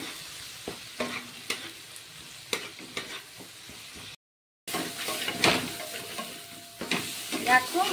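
Spice paste with turmeric frying in a pan for a fish curry, a soft steady sizzle broken by the scrape and knock of a spatula stirring, louder after a short gap, with a voice talking over it.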